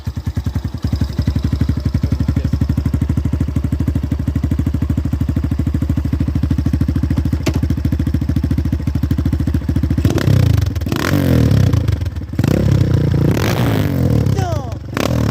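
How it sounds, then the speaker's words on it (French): A Big MMIX 250 motorbike engine runs loud and close with a steady, throbbing idle, then breaks into sharp, choppy revs near the end while voices talk over it. "Allume le moteur là vite fait. Fais hurler, fais ce que tu veux."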